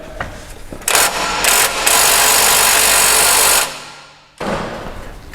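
A pneumatic ratchet gun working on rusty control arm bolts of a Jeep Wrangler Rubicon, giving a loud continuous whirring buzz with a few short bursts before a long steady run, a brief pause, then another burst.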